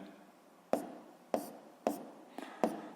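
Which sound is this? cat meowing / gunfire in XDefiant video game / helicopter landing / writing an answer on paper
writing an answer on paper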